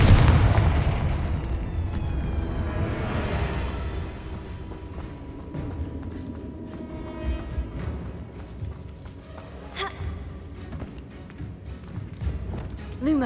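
A Confringo blasting spell explodes in Hogwarts Legacy, with loud booming bursts and crackling over a dense, rumbling game soundscape, recurring across the stretch.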